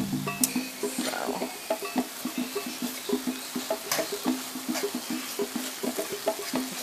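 Ground turkey is broken up in a skillet with a utensil, giving repeated soft scraping and tapping strokes over a low sizzle, close and steady, without talk.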